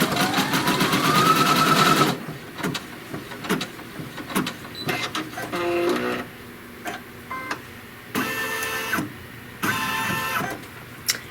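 An embroidery sewing machine stitches a seam line on fabric held in its hoop, starting with a loud rising motor whir, then settling into intermittent bursts of clicking, ticking stitches separated by short pauses.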